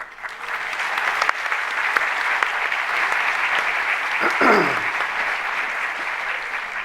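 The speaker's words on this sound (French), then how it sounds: "on vous lui transmettra vos applaudissements" Steady applause from a crowd fills the room, continuous clapping that holds at an even level from start to finish.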